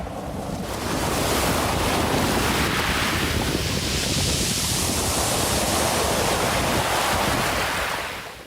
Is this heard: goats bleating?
no